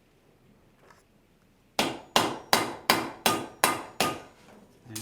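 Steel on an anvil struck by a hammer while a blacksmith forges a horseshoe heart: seven loud, ringing blows in a steady rhythm after a quiet start.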